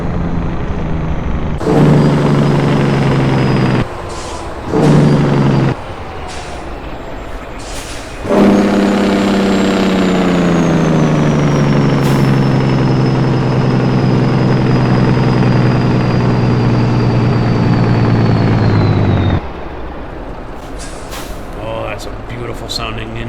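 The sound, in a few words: truck engine brake in American Truck Simulator video game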